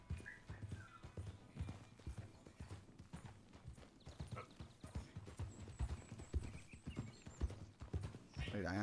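Hooves clip-clop steadily from a horse following the rider in the video game Red Dead Redemption, heard over a background score while someone talks through most of it.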